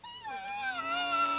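An elk call imitates a cow elk in estrus, producing one close, drawn-out, nasal mewing whine that slides downward and then holds steady.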